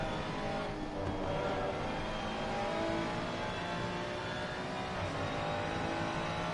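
Onboard engine of a Ferrari race car in Assetto Corsa Competizione, racing at Zolder: a steady, loud, continuous roar at high revs with little change throughout and no speech.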